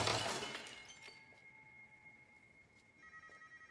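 A telephone ringing indoors after a sharp crash-like burst, the tonal ring sustained and fairly quiet, then repeating in short pulses.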